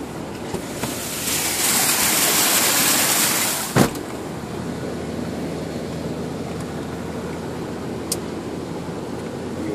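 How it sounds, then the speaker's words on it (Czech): Flood water pouring into a company building, a broad rushing roar that swells loudly in the first seconds, then settles into a steady, more distant flow with a sharp knock partway through. "jak jim ta voda teče do firmy"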